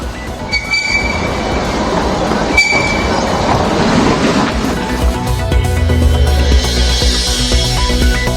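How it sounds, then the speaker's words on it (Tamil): A mountain railway train running from Mettupalayam to Ooty rumbles along close by with rattling carriages and high metallic wheel squeals, the clatter growing heavier toward the end. "மேட்டுப்பாளையத்திலிருந்து உதகைக்கு 4 நாட்களுக்கு பின் மலை ரயில் இயக்கம்."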